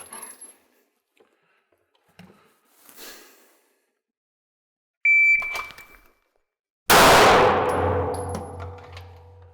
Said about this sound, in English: 5 shots, Canik TP9.